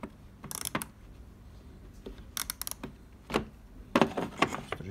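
A small grille mechanism is twisted back and forth, giving sparse clusters of dry ratcheting clicks and clacks in short bursts separated by quiet pauses, close and fairly soft.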